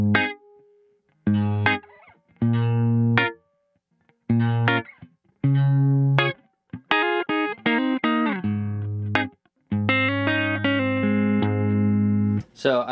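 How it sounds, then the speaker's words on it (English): An electric guitar plays through a Kemper amp profiler with a dry, unprocessed signal. Separate clean chords and single notes ring out in short phrases with gaps between them, loud and close. "So this is just my guitar going into the amp."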